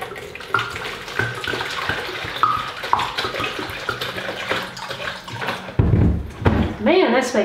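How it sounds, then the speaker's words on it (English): Filtered water swishes and splashes around inside a container being rinsed in a kitchen, a close sloshing mixed with running-water noise while a person talks over it. "Let's just swish this out, make sure it's nice and clean with the water that's been filtered."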